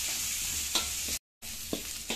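Onions and curry chillies frying in a pan for chicken string hopper kottu, a steady broadband sizzle broken by a few soft stirring scrapes, with a brief gap of silence midway.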